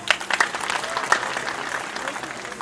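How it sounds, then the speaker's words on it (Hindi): An audience at a farmers-scientists meeting of an agricultural science centre bursts into applause for an honoured university guest, a dense, lively patter of many hands with a few sharper claps, fairly close and continuous throughout. "तालियां बजाओ।"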